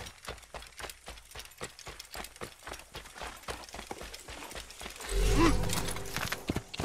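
Horse hooves clip-clop at a steady trot in the Assassin's Creed video game, the regular footfalls sounding close and clear before a louder rush of movement near the end.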